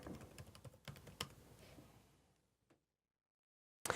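Quick, close keyboard taps of a password being typed on a Mac, in a short burst that fades to silence, followed by one more sharp keystroke.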